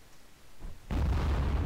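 Missile exploding near a ground vehicle in DCS: Combined Arms, a single close, heavy boom that rises abruptly and rumbles on for the rest of the moment after a quiet lead-in.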